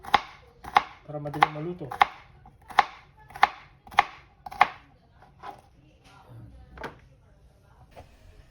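A knife chops bitter gourd steadily on a cutting board, about a dozen crisp, evenly spaced strikes that slow and fade toward the end, with brief speech midway.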